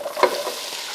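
Two medium-sized onions hitting a couple of tablespoons of hot oil in a pan, a brief close hiss with a quick stirring scrape near the start, no voices.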